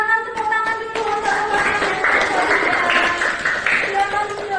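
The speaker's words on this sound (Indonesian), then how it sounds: "Silakan tepuk tangan dulu" A classroom audience claps hands in a burst of applause, the patter swelling in the middle and then fading while a voice talks over it.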